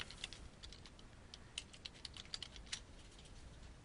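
Quiet clicking of a computer keyboard as a phrase is typed into a text box, irregular light taps in short bursts, close and alone without speech.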